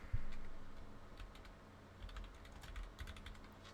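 Typing on a computer keyboard into a website search bar: a quick run of soft, close key clicks over a low background hum.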